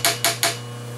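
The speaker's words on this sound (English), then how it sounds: "We'll have to hammer it down again." Three quick, sharp metallic hammer blows seat a machined workpiece down onto parallels in a machine vise in a metal shop, each strike ringing briefly over a steady machine hum.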